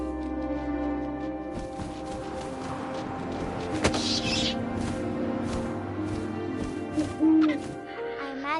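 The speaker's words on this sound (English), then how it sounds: "And suddenly, I was an owl." An owl hoots in the video game What Remains of Edith Finch, the call clear and fairly loud over a low ambient wind bed, with a few brief clicks and shifts partway through.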